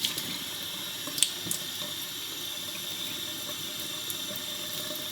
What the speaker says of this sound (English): Give them a bit of a wash to make sure that they're clean.